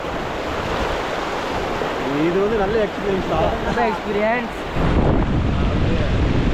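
Forceful rushing floodwater roars in a steady, loud, close wash with gusty noise while people talk over it.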